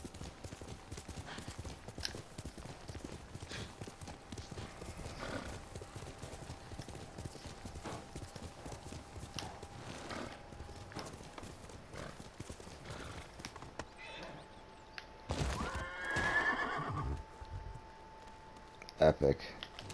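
Horse hooves clip-clop steadily in the Ghost of Tsushima video game, with a horse's neigh and a snort bursting out near the end, all under a quiet background.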